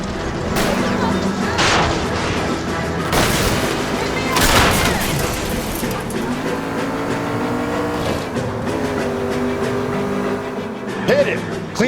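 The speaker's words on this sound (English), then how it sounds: "I'm trying to shoot out his tire." Gunshots ring out amid roaring car engines during a high-speed chase in L.A. Noire, aimed at a fleeing car's tire; several loud sharp bursts sit over continuous engine noise, with voices talking throughout.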